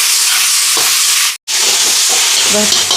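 Tomatoes and vegetables sautéing and being stirred in a pan for a brinjal curry, a steady loud sizzle broken by a brief stop, with stirring scrapes and no talk.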